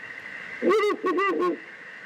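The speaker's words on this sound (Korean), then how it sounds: "긴전박이 올빼미는 멸종위기 야생동물 2급이자 오대산 생태의 기대종이기도 합니다" A Ural owl in the Odaesan forest gives a few deep, wavering hoots in two quick bursts, moderately distant over a faint steady background hum.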